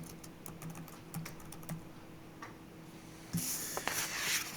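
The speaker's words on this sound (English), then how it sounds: "got to wake up my fingers to type" Quick, light keystrokes tap across a computer keyboard in a quiet room, an irregular run of soft clicks that turns denser and brighter near the end.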